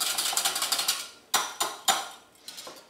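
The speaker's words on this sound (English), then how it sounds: "Give that a little whisk." Active dry yeast mixture is whisked in a bowl, first as a quick run of light metallic clicks and taps, then as a few separate sharper strikes against the side, close and clear, with no speech.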